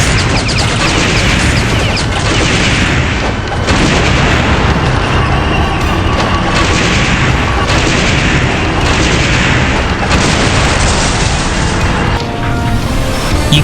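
Dense, loud booms and crashing blasts fill the scene as tanks are destroyed in the video game Ninja Gaiden Sigma, explosions layered continuously over a heavy game soundscape.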